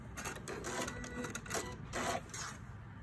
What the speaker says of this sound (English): just sew on the line if I can get to the line